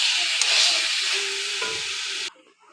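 Fish added to a hot spice paste for a lote fish curry sizzle with a loud, steady hiss close by, then the sound cuts off abruptly to near silence.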